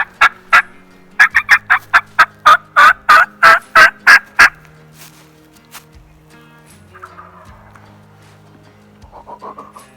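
A wild turkey tom gobbles loudly nearby in a rapid burst of repeated rattling calls lasting a few seconds, then falls quiet, leaving faint outdoor background sounds.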